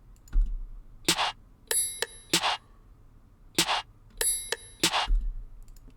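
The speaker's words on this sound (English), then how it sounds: "Snares, claps." Snare and clap drum samples from a hip-hop beat, played alone as a sparse pattern of sharp, bright hits in two repeating groups, each strike crisp and close with a short noisy tail.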